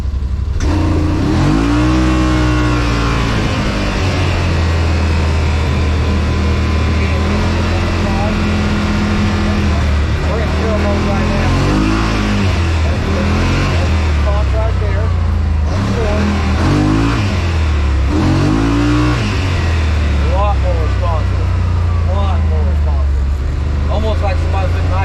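A 2021 Yamaha RMAX2 1000 UTV engine pulls hard in sport mode, droning loud and close through repeated rising revs and gear shifts, with a voice talking over it at times.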